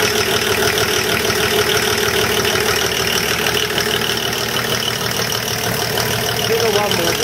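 The engine of a VW LT van idles steadily with a new belt fitted, a close, loud, even mechanical rumble with a fine rhythmic ticking that holds throughout, with some voices faintly beneath.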